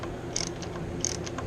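Half-inch ratchet tightening axle mount bolts on a Ferris mower's Hydro Gear transaxle, giving two short bursts of rapid metallic clicking about half a second apart, close and fairly quiet over a low background hum.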